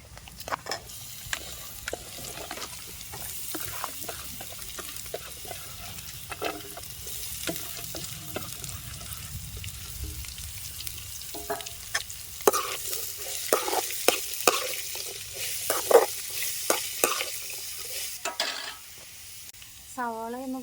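Sliced onion frying with curry leaves in a pan for a mushroom fry, steady sizzling under repeated scraping stirs of a spoon against the pan, close and continuous with brief clatters.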